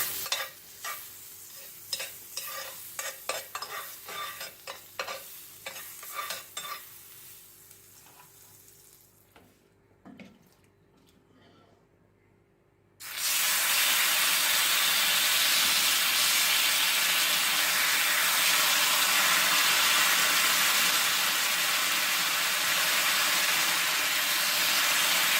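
Butter sizzles loudly and steadily on a hot pan while chicken Manchurian is being cooked. Stirring clatter and scraping come first, then a short lull, then a sudden, sustained frying hiss that lasts to the end.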